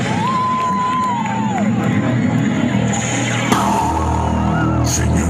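A large crowd at a live music show in Coronel Oviedo, Paraguay cheers and whoops in a continuous roar to welcome the headline artists, with scattered shouts and whistles rising over the din.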